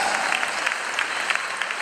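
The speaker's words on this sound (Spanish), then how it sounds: "Fuerte el aplauso para los malos y para los buenos." Steady crowd applause at a police dog unit show in A Coruña's Coliseum, dense clapping throughout at an even level, with no voices standing out.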